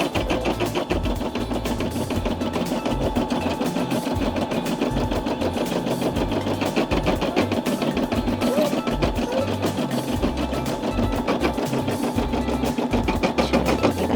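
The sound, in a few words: Brother SE600 embroidery machine stitching background stabilizing stitches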